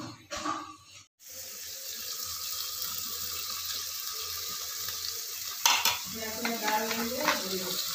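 Onion, chilli and carrot stir-fry in a pan for chowmein: a steady close sizzle runs throughout, a brief break comes early, and scraping stirs and clatter follow near the end, with no talking.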